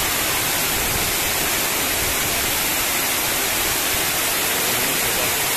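A waterfall pours in a constant, dense roar of rushing water, steady and unbroken throughout with no voices.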